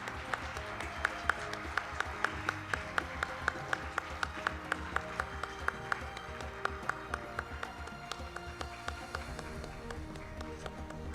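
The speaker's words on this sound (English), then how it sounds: "Another big round of applause, please." A small audience claps after a performance at a forum opening ceremony, quiet and sparse, with distinct individual claps ringing out at a fairly regular pace over a low hum, and no voices over it.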